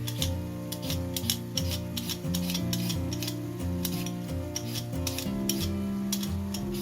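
A peeler scrapes thin sweet carrots in quick repeated strokes, a rhythmic series of short crisp rasps close by over a low background hum, with no voices.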